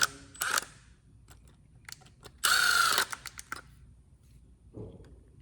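A power tool drives screws back into a Kawasaki 4WD front differential actuator from a KRX 1000 or Mule Pro, with a short whirring run, several ratcheting clicks and handling clatter, close and without speech.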